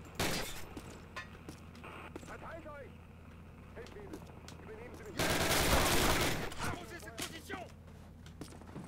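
Bursts of automatic and single-shot gunfire in the World War II shooter Call of Duty, with one loud sustained volley midway and scattered shots before and after, under voices talking.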